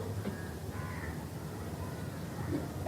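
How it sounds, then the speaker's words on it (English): A crow cawing somewhere in the distance, faint and brief against a steady background hum. "When you listen to that, to the sound of the crow"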